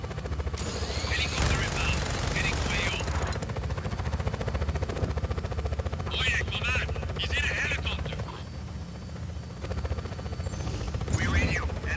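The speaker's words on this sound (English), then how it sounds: "Enemies in a helicopter." Helicopter and gunfire in the video game Just Cause 4, a continuous rotor drone with scattered bursts of shots over about twelve seconds, with voices speaking intermittently over the din.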